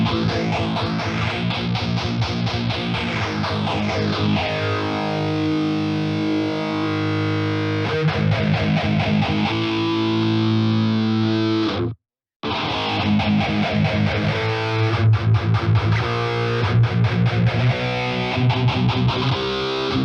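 Heavily distorted electric guitar run through the Aurora DSP Rhino amp plugin, playing dense sustained chords and riffs for about twenty seconds, loud and saturated, with one brief silent gap midway and no voices.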